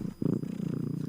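A house cat purrs loudly up close, a rhythmic, continuous rumbling purr with no voices over it.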